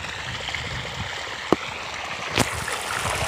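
Water trickles and gurgles into freshly dug soil around papaya plants, a soft continuous flow marked by two brief knocks or splashes.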